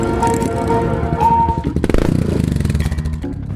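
A motorcycle parked on a road starts up and idles with a rapid, chugging engine pulse, close by and fairly loud, after music at the start gives way to the clattering engine.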